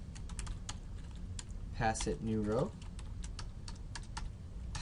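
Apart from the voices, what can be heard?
typing on a computer keyboard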